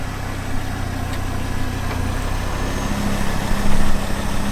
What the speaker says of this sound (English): Power steering pump, you can hear that